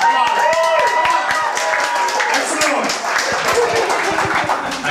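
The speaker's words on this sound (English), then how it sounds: "give yourself a round of applause" Audience members at a blockchain week panel clap for several seconds, a scattered, moderately loud round of applause with individual claps audible, mixed with voices in the room.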